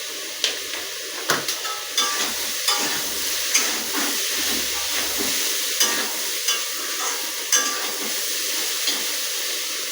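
Chopped liver frying in a pan for a Bengali metey chorchori, a steady close sizzle broken by repeated scraping clinks as it is stirred.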